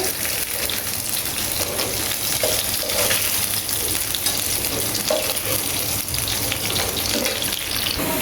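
Hilsa fish fry in hot oil in a pan. A dense, loud sizzle with bubbling and crackling holds steady for about eight seconds, with a few soft scrapes of a utensil.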